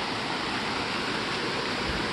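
A clear river flows steadily, a dense, even rush of water with no pauses and no voices over it.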